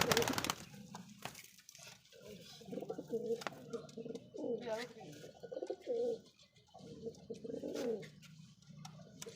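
Several pigeons coo in repeated soft, throaty phrases close by, with brief chirps and a sharp handling noise at the start.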